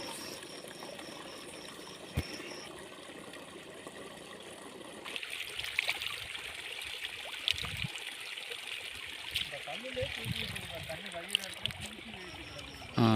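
A village stream flows with a steady, soft trickle and babble of water throughout, faint and continuous, with occasional small splashes and a person talking over it.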